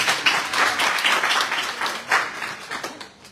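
An audience of Sierra Leoneans in Qatar claps for the foreign minister at a presidential dialogue, a loose burst of hands that swells, dips and comes back in uneven waves before thinning out.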